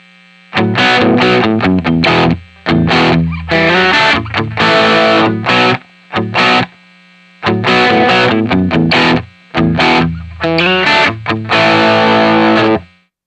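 A distorted electric guitar riff is played on a Murphy Lab or Grit Bros Junior, loud and close, in choppy bursts of chords with short silent gaps between phrases.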